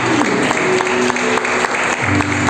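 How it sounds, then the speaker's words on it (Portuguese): A church congregation applauds in a dense burst of clapping that swells and holds, loud and reverberant, with a sustained musical tone beneath. "Você pode aplaudir o Senhor com essas palavras?"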